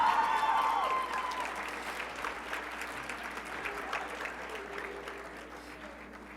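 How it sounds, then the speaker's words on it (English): Audience applause at the Mr. Vineland 2019 pageant, a burst of dense clapping that starts loud and gradually thins and fades over several seconds, with faint voices underneath. "Give him a big round of applause."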